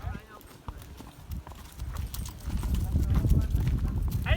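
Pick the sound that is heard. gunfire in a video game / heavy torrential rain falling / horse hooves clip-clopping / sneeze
horse hooves clip-clopping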